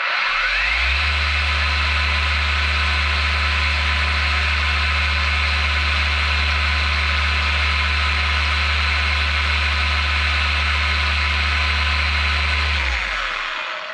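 A car polisher runs to clean spent compound off its pad, a loud steady motor drone holding for about twelve seconds before spinning down at the end.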